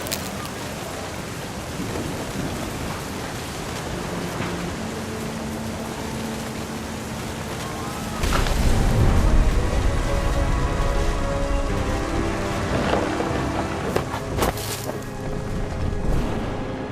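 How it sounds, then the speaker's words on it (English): Thunderstorm in What Remains of Edith Finch: steady hiss of heavy rain, with a deep rumbling surge of thunder swelling in midway and lingering beneath the downpour, plus a few sharp cracks later on. "The thunder sounded much too close and full of angry power."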